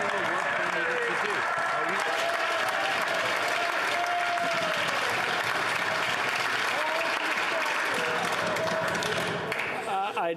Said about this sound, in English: They were applauding so much for his answer, I mean, they couldn't hear it.